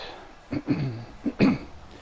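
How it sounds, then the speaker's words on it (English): A few short, close coughs in quick succession, rough and throaty, with no talking. "Sorry about my cough"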